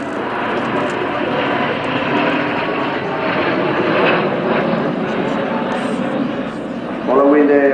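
Formation of Hornet jets passing at an air show at Fairford, a loud sustained engine rumble and roar swelling and fading slightly, with an announcer talking over it and a brief sharper sweep near the end.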